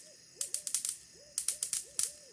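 Soft owl hoots repeat in short wavering phrases at a distance, overlaid by clusters of sharp crackling snaps from a bug zapper and a constant faint electrical hum.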